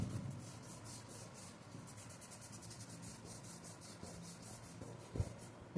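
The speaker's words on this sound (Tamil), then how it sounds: "நான் கையால் தேய்க்க" Oil pastel colour on a paper dinosaur drawing is smudged by hand with quick, soft rubbing strokes in a steady rhythm, faint and close, with one brief louder bump near the end; no talking.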